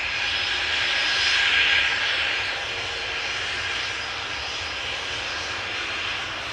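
A CRJ jet airliner takes off at Amsterdam Schiphol, a loud broad engine roar that peaks early and then holds as a steady, slightly fading rumble.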